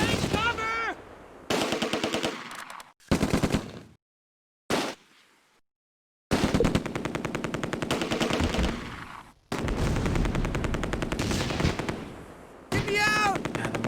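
Rapid machine-gun bursts and rifle fire crackle in a World War II battle in the video game Close Combat: A Bridge Too Far, loud volleys aimed at a mortar team, broken by short silences.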